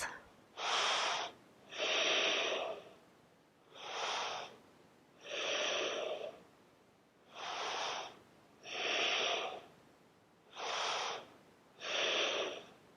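Slow, deep breaths held through a seated yoga twist: eight evenly spaced, airy inhales and exhales, each lasting about a second, close and clear with quiet pauses between them.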